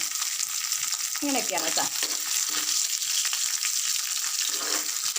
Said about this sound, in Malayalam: ഞാൻ അന്നേരം അതിനകത്തോട്ട് ഇച്ചിരി തേങ്ങാക്കൊത്തിട്ട് കൊടുക്കുന്നുണ്ട്.